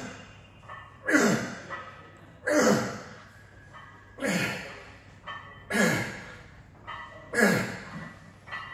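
A man pants heavily during a gym workout, about five loud, breathy exhalations at regular intervals of roughly one and a half seconds, close and alone.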